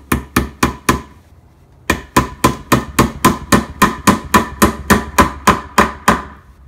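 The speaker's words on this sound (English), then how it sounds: "So now that the holes are drilled out, the tack can tack all the way into place." Upholstery tacks hammered into a leather cabinet corner: four quick steady strikes, a short pause, then a long even series of sharp close metallic knocks, loud and alone.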